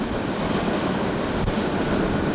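Steady, loud rumble of a moving freight train wagon heard from on board, broadband roar with no distinct clicks or pauses throughout.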